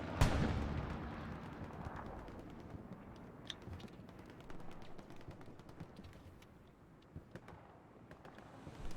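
Bombs dropped by a bomber burst in a Hell Let Loose battle, a loud opening blast followed by a dense rumbling roar and scattered sharper distant explosions and gunfire, with no talking.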